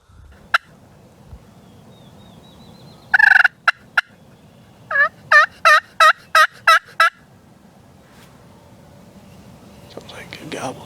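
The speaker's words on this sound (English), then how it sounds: "Sounds like a good gobble too." Wild turkey gobbling in the woods: a sharp burst, then a rapid string of about six loud, rattling gobbles close by, with faint whispering and rustling underneath.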